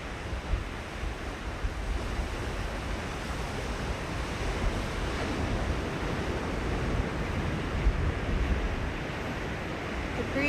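Breezy wind and ocean surf on the Central California coast at Leffingwell Landing, a steady wash of waves and wind rumble buffeting the microphone, fairly faint and continuous with no one talking.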